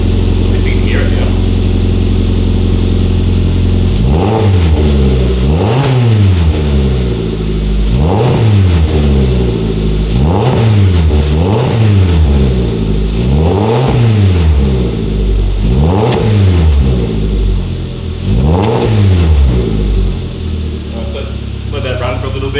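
Suzuki Jimny engine with an upgraded 2.5 inch exhaust and extractors, idling and then revved in a series of about eight regular blips, each sharp rise in pitch falling back to a loud, close, throaty idle.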